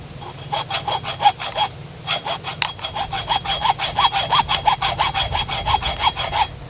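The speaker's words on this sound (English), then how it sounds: "I'm going to try to use a hacksaw." Hacksaw cutting through metal at an electrical breaker panel, a steady run of rhythmic back-and-forth strokes with brief pauses between bursts, close and fairly loud.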